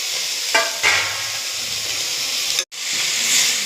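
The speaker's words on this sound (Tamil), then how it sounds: "நல்லா வதங்கிட்டு வெங்காயம், இப்போ தக்காளி 4 பல் பூண்டு கொட்டிக்கிடலாம்." Onion, tomato and garlic frying in a pan for a fish curry, with a steady loud sizzle and hiss, a couple of sharp stirring scrapes, and a brief cut to silence near the end.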